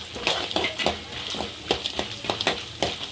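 Cumin, mustard seeds, chana dal and urad dal tempering in hot oil in a pan alongside peanuts, a close steady sizzle broken by sharp scraping stirs and light spatters, with no voices.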